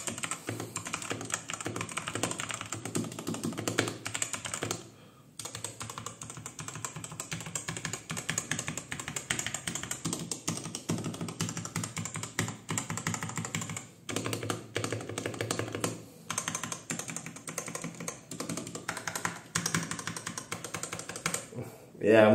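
Fast, continuous clattering keystrokes on a Robot Workmate IV mechanical keyboard, close and crisp, with a few brief pauses between bursts of typing.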